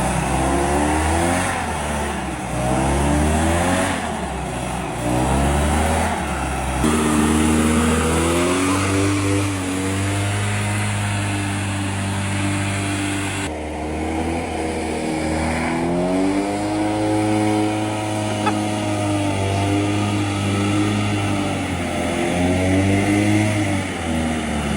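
Loud hovercraft engine roaring and revving, pitch rising and falling repeatedly over a steady rumbling drone, close to the listener, on a hovercraft abandoned for 20 years.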